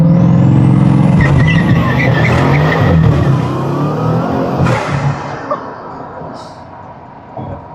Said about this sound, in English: I'm gonna activate launch control.